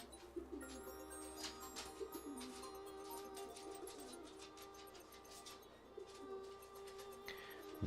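A pigeon or dove coos softly in repeated low, rhythmic calls. Faint chirps and other background sounds come and go.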